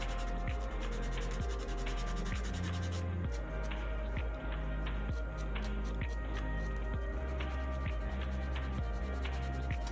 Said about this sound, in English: If we use a little bit tougher sandpaper.